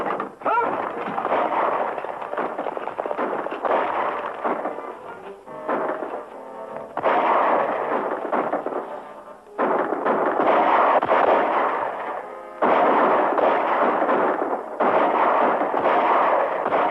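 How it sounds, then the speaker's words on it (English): Heavy gunfire fills a western cowboy movie shootout: loud, dense volleys of shots and echoing blasts in repeated bursts separated by brief pauses, with no talk. "Whoever's doing that shooting is helping us."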